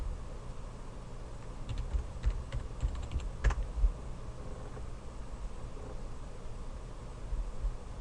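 Typing a password on a computer keyboard: quick, light key clicks in short bursts, close and fairly quiet over a soft hiss, with no talking.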